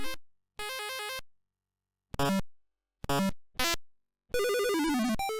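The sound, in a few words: Mario Bros. sound effects, Atari 7800 video game port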